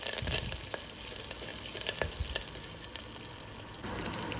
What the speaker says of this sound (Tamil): ஒரு கொத்து கருவேப்பிலை இதெல்லாம் போட்டு நல்லா வெங்காயத்தை வதக்கி விட்டுக்கலாம்.